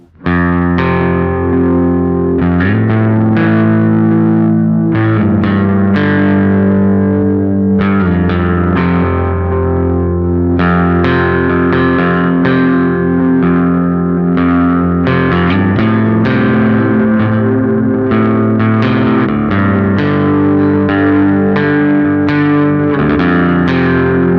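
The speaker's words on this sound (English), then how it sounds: "I want to turn the low pass filter to the top position so we shave off as much high end" A sustained, darkened guitar passage through a Bleak District Electric Tapescape pedal with its low pass filter at maximum, muffled and warbling with the highs rolled off, steady and loud throughout with no talking.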